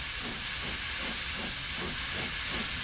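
An SDJR 7F steam locomotive in Train Sim Classic blowing off steam from its safety valves, a loud, continuous roaring hiss held steady and close throughout.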